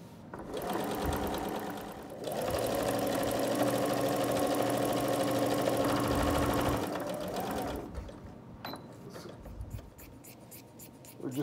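A sewing machine stitches two fabric pieces together in a steady, loud mechanical whir that runs for several seconds, pauses briefly, resumes, then stops with a few faint clicks and handling noises.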